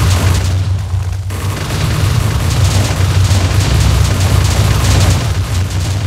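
A loud, deep explosion rumbling in a video game set in a mansion battle, a sustained heavy boom with crackling debris that fills the whole stretch without fading.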